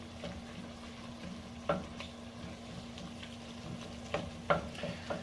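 Meat seasoned with salt, black pepper and seven spices frying in ghee, a low steady sizzle broken by a few sharp stirring clatters near the end.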